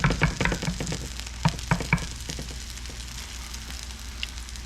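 Potato patties frying in a pan of hot grease, a steady close sizzle with sharper pops and clatters near the start as they are turned, then settling into an even crackle.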